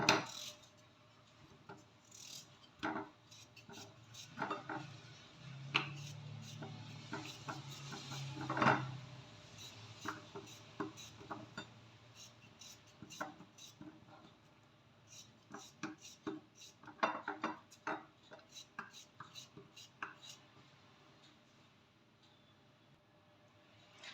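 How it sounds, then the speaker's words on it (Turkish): Kitchen knife chopping potatoes on a cutting board at home, a long run of sharp, irregular taps and scraping strokes close up, with short pauses between bursts and no talking. "Şimdi patateslerimi doğruyorum."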